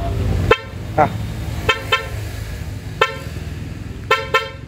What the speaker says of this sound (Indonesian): Si alarm remote-nya udah pindah ke klakson nih